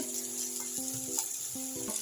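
Fish roe pilaf ingredients fry in oil with a constant soft sizzle, close and low, while a faint tonal hum sits underneath.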